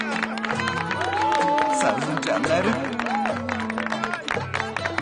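A crowd applauds and cheers in a busy audience setting while music plays and voices talk over it, giving a loud, continuous wash of clapping.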